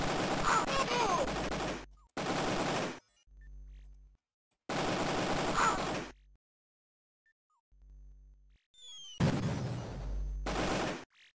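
Gunfire in the Amiga game Cannon Fodder 2 comes in dense, chattering bursts of rapid shots separated by silent gaps and soft low tones. A final stretch of firing sounds heavier and more jumbled.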